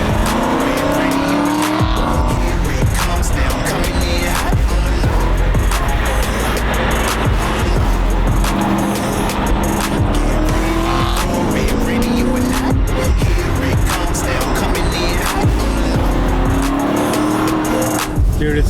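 A budget supercar on new coilover suspension drives hard, its engine roaring loudly and continuously, with tires squealing and skidding over the drone.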